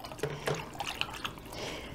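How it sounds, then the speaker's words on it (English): Water sloshing and dripping as it is mixed by hand in a garden sprayer container with nematodes and a strainer inside, giving several soft splashes and trickles close by with no talk. "Now I need to mix this really well because there is a strainer in here."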